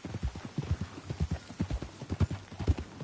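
Horse hooves clip-clop at a steady trot on a ranch in Red Dead Redemption 2, close and rhythmic, with a faint whinny in the mix.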